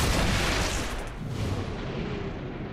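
Gunfire in the XCOM: Chimera Squad video game as a turret is shot, a dense, continuous roar of explosive blasts and rumble that stays loud throughout before easing slightly toward the end.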